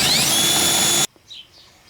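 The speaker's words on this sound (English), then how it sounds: "I gotta drill these rivets out." A power drill whines at high speed while drilling out rivets on the rear bumper cover of a 2004 Ford Mustang, then stops abruptly, leaving faint handling noises.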